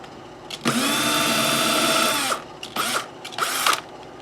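A power drill boring new screw holes into a Stratocaster-style guitar body, whirring loudly for about two seconds, then two shorter bursts follow after brief pauses, close and with no talk.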